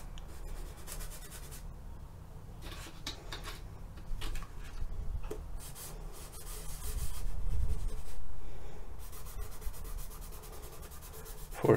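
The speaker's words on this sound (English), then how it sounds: "The soft pastels have a powdery texture and allows to rub and to smear it on paper." Soft pastel rubbed and smeared across toothed paper, giving soft, dry scratchy strokes in irregular bursts, close and quiet, with no voices.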